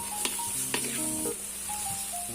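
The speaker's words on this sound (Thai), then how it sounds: "ผัดเลย คลุกเคล้าให้เข้ากันนะครับ" Sliced bitter gourd and egg stir-fried in a pan for a Thai home dish, giving a steady soft sizzle with light scraping and stirring clinks, heard close and alone.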